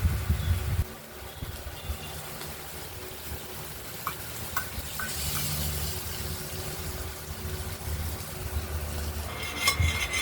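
Pumpkin and bitter gourd fry in a pan with a steady sizzle, broken by a few sharp clinks and scrapes as the pieces are stirred.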